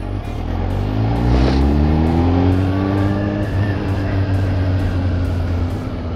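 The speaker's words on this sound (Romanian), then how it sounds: "Hai să mai merem cu motorul." A motorcycle engine revs and accelerates during a night ride, loud and close, its pitch climbing through gear changes over steady wind noise, with no talking.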